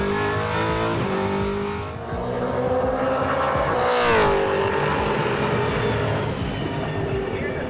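A Toyota supercar's race engine drones loudly and steadily, rising in pitch as it accelerates past near the middle, with faint talk underneath.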